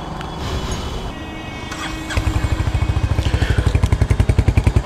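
Royal Enfield Hunter 350 motorcycle with a short stock exhaust, thumping through a low steady idle at first and then a louder, faster pulse of rapid regular exhaust beats after the throttle is opened, close to the mic.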